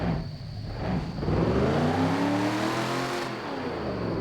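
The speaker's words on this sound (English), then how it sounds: "it does have the big crazy V8 sound like I expected" A Tim Burton Batmobile V8 engine in the racing game Assetto Corsa revs up hard, its pitch sweeping upward and falling back in a loud, continuous roar.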